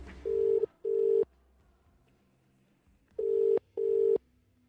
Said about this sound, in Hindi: पुनीत ने बिना समय गवाए डॉक्टर शेखावत को फोन लगा लिया।